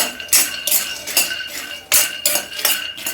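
Peanuts dry roasting in a pan with no oil, stirred with a metal spoon: close, rhythmic scraping strokes and clinks against the pan, repeated every half second or so.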